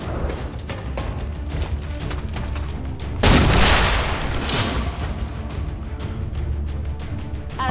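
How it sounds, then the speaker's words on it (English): Pistol shots ring out in XCOM 2, a series of gunfire bursts, loudest in one dense blast midway, with a rattling mix of reports and mechanical clatter around it and no talk. "let's see if she can shoot with her pistol"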